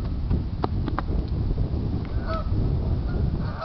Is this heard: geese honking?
yes